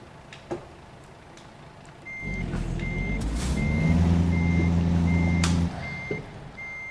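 Reversing beeps from a truck backing to recouple a trailer in American Truck Simulator, an evenly spaced series of beeps over a rising diesel engine rumble that cuts off near the end, with a few clanks.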